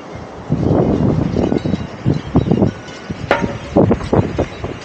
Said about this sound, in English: Breezy out here.